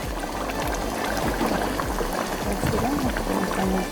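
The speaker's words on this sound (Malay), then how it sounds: "sebelum masuk tomato saya masukkan dulu air asam" Tamarind water poured into a simmering fish curry of golden pomfret, mamak style: a steady liquid splash and trickle over bubbling, with light background noise and no talk.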